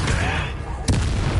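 A Bombarda blasting spell explodes in Hogwarts Legacy as a single sharp blast bursts out partway through. It comes after a dense, rumbling background of combat noise.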